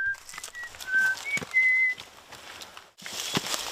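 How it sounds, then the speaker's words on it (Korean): A person whistles a short, wavering tune of several clear notes, fairly close, followed by a burst of noisy background. "휘파람으로 분위기를 바꿔봅니다"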